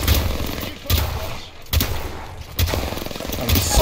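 Shotgun fire in a video game, heavy blasts repeating about every second, loud and close, with a noisy game soundscape around them.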